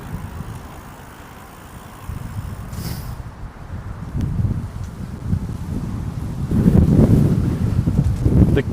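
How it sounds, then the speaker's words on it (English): Heavy wind buffeting a microphone while cycling along a San Francisco bike lane, low rumbling gusts that swell louder toward the end, with no voices. "And the wind is always brutal."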